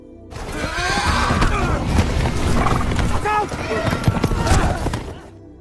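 Horses ridden by mounted raiders neigh and whinny loudly in a film scene, several calls rising over hoofbeats, thuds and a chaotic background roar, with voices mixed in.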